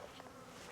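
Honey bees swarm out of an opened hive during a spring colony split, a dense steady buzz filling the brief moment at low volume.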